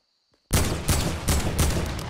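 AK rifle fire in the Fortnite video game breaks out suddenly after a near-silent moment, a loud, dense burst of rapid shots with a few pulsing swells that carries on to the end.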